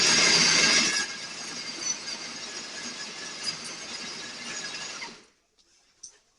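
A De'Longhi La Specialista burr grinder grinds fresh coffee beans at a finer setting of 5, giving a loud, steady whirring rasp for about five seconds, harsher at the start, before cutting off, with a few faint clicks afterward.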